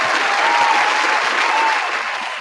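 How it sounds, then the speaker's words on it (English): Audience at a district town hall applauding steadily, a dense, loud wash of clapping that holds for a couple of seconds and eases slightly toward the end. "We'll give you one last round of applause."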